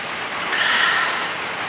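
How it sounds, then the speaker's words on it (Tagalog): Steady, hissing rain falls, a soft continuous wash of drops with no other sounds standing out. "Umuulan na naman."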